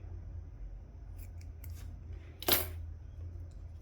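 One sharp snip of scissors cutting through crochet yarn, close and brief, after some soft handling rustles in an otherwise quiet room.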